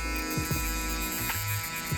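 Electric hair clippers hum steadily at close range while cutting a skin fade, a continuous buzzing drone with slight pitch dips as the blade meets the head.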